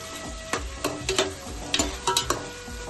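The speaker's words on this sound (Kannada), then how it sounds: "ಕಟ್ ಮಾಡ್ಕೊಂಡಿರೋದು 3 ಈರುಳ್ಳಿ ಹಾಕ್ಬೇಕು. ಗೋಲ್ಡನ್ ಬ್ರೌನ್ ಕಲರು ಆಗೋವರೆಗೂ ಫ್ರೈ ಮಾಡಬೇಕು." Sliced onions frying toward golden brown for chicken biryani, a close sizzle punctuated by sharp, irregular clicks and scrapes of a spatula against the pan, with no voices.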